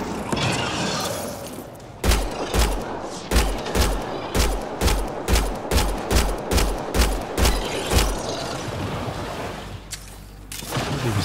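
Pistol fire in the video game Mass Effect Andromeda, a rapid, evenly spaced string of sharp shots close up, about fifteen in a row, then a short pause before the firing fades.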